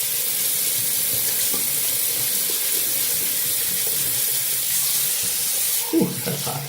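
Water runs steadily from a sink tap, a continuous hiss and splash at close range, with a brief clatter of handling near the end.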